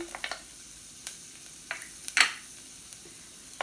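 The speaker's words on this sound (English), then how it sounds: "I'm going to put in a little bit of avocado oil, and then I'm going to add garlic and ginger" Garlic and ginger sizzle in avocado oil in a pan, with a soft steady frying hiss, scattered light crackles and one louder hiss burst near the middle, and no talking.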